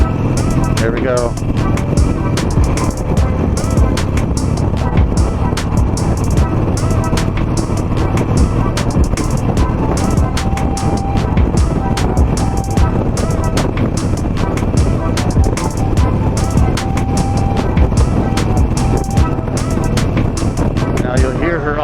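Continuous engine drone from a 16-year-old Harley-Davidson Nightster while riding, echoing off a wall, mixed with wind buffeting and rushing air, loud and close throughout.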